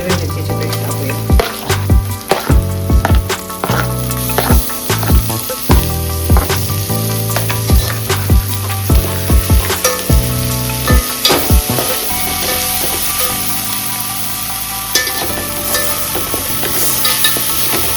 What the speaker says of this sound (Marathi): ही मिरची चांगली परतून घेऊया